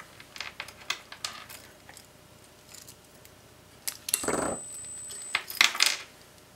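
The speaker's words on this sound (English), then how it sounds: "I'm going to turn both keys at once, and the electromagnetic lock is going to unlock" An electromagnetic lock on an escape room prop releases after two keys are turned together, preceded by faint clicks of the keys and followed by a sharp metallic clack and rattling, close and alone.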